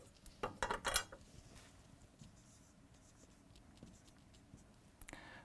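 A pen or marker scratches across a surface while drawing a diagram in green, a quick burst of scribbling strokes near the start, then faint intermittent taps and scrapes, close and quiet.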